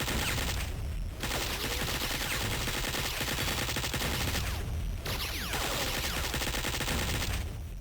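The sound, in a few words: cannons shooting in video game Duke Nukem 3D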